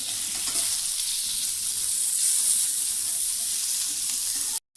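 Steady, loud sizzle of jilebi fish frying in hot oil, hissing continuously without pause before cutting out abruptly near the end.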